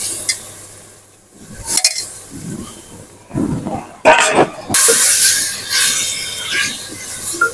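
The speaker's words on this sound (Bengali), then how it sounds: "মশলা কষানো হয়েছে, দিয়ে দেবো মাছ। মাছটা কষিয়ে রান্না করবো।" Pieces of desi koi fish dropped into a pan of cooked spice paste, first clinking and scraping of utensils, then a sudden loud frying sizzle that hisses on steadily, close.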